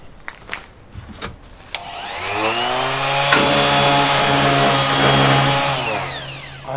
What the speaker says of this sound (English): I'm putting the grinder upside down so I can reach in the corners inside and make it a proper work.